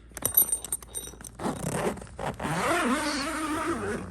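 A large hand zipper on a black DFG off-road shower awning bag is drawn open in several quick rasping pulls up close, followed by rustling and scraping as the bag is handled.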